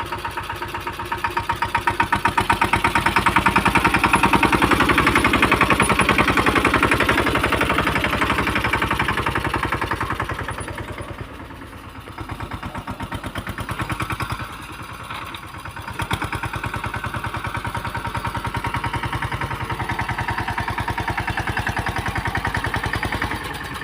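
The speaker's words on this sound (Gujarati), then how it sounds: "વિપુલભાઈ ટ્રેક્ટર ચલાવે છે" A tractor engine chugs steadily while sowing guar in a farm field, loud and close with an even mid-pitched drone that dips briefly in the middle before settling back into a constant run.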